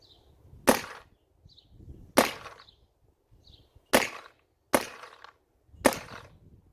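A Dye M3s paintball marker, fresh out of the box, fires five sharp, loud shots through a chronograph at irregular intervals of about a second, each crack followed by a short tail, with a faint hiss and quiet gaps between shots.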